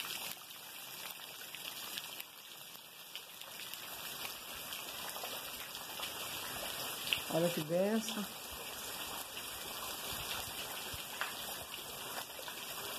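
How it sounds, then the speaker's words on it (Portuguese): Rain falling steadily over plantations in the Bacuri area, a soft continuous hiss of drops on leaves and wet ground, with someone speaking over it and a brief sharper splash midway. "Nós estamos aqui na nossa área e a chuva caindo, molhando as plantações."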